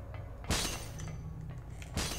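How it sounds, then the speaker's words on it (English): Glass bottles smash in the Silent Hill video game, two sharp shattering bursts about a second and a half apart, each followed by a brief tinkling scatter of shards, loud and close with no talking. "Sound of someone breaking glass bottles."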